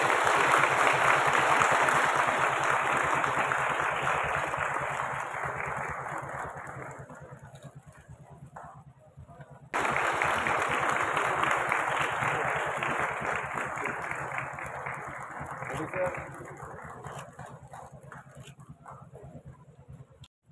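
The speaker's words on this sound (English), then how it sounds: "I request the audience to please give a round of applause." An audience applauds at a ceremony flagging off a CRPF women bikers' expedition in Meghalaya, with broad clapping that swells, fades away, then bursts up again and tapers off.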